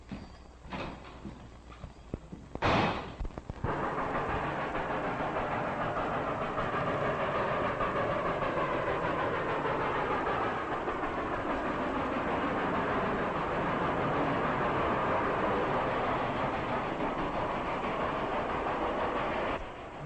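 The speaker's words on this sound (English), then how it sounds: "It's a ghost train, all right." A train with no lights runs along the rails at night, its rumble and clickety-clack rolling on steadily at middle distance after a few sharp clanks at the start.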